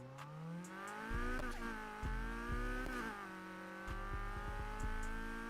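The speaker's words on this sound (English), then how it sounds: "2 o'clock in the morning, you hear the goddamn exhaust" A Honda car in a night-time video game scene, its exhaust revving hard in repeated bursts with the engine note climbing and falling, joined by tire squeal, loud and close, no talk.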